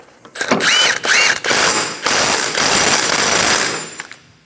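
A ratchet turning a 30mm socket to tighten the front axle nut on a 2008-2015 Scion xB during a wheel bearing and hub replacement, loud close rapid mechanical clicking in sustained bursts with brief gaps.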